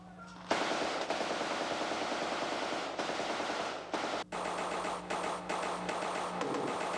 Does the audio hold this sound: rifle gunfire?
yes